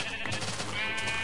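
A sheep bleats in Minecraft, a short wavering call over busy background game sound and music.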